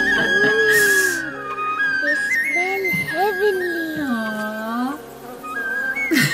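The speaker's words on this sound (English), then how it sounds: "Even the bees are drunk with their aroma." Bees buzz in an animated Little Sri Krishna 3D episode, a continuous droning hum set against music and voices.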